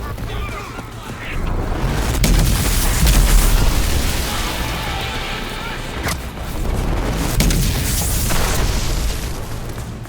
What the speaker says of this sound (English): The BFG can wipe out most early game bosses in one shot and make short work of groups of standard enemies.